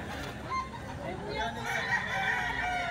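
A rooster crows at a Saturday chicken market in Baliwag, a fairly faint, drawn-out call rising over low background chatter.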